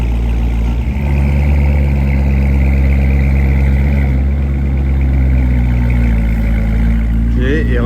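An American V8 car engine rumbles loudly nearby with a deep steady idle and slight revving, while people talk over it.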